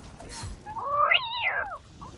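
A young man imitates a cat's meow with one drawn-out, rising and falling whiny cry, fairly loud and close, heard alone against faint room noise.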